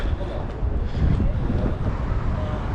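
Strong outdoor wind buffets a microphone, producing a loud, continuous low rumble and gusty roar for a few seconds, with no clear speech.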